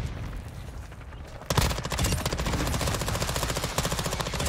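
Rapid automatic fire from a BAS-P submachine gun in a first-person shooter game, bursting in loud and near after a quieter opening and carrying on as a dense, continuous rattle.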